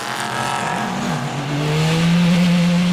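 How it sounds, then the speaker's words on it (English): A Praga R1 Turbo race car at a race start at Assen pulls away under heavy acceleration, its loud engine note climbing in pitch and holding a strong, steady drone, heard from on board with no talk. "on board with Tim Gray in the Praga R1 Turbo, needs to keep the boost up at the start or he's going to be swamped by the Radical SR8s behind"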